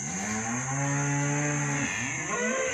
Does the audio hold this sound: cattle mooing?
yes